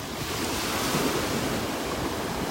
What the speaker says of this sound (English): Little waves breaking here on shore.